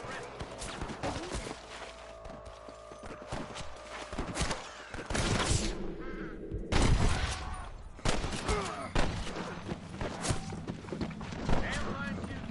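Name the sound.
gunfire in video game Red Dead Redemption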